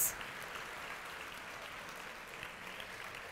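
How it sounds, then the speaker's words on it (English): Applause from an audience at a school district ceremony honouring student scholars, steady and moderately distant, a continuous wash of clapping with no voices over it. "another round of applause for our super scholars"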